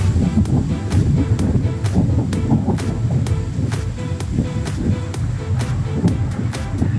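Strong wind near the Davao–Samal bridge construction site buffets the microphone in a constant roar, with repeated sharp clicks or knocks cutting through at a regular pace.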